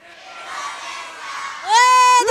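A crowd of children in Indonesia shouts together, building from a murmur to a loud, sustained unison yell at the end.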